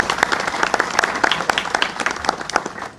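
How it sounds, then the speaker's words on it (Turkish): Audience applause at a Turkish civic gathering, a steady burst of many hands clapping filling the room for about three seconds with no voices over it. "bir alkış istiyorum"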